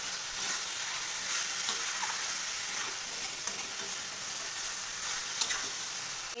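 Potatoes and pointed gourd fry with spices in a pan, crackling in a steady, dense sizzle with occasional scraping stirs, close and continuous throughout.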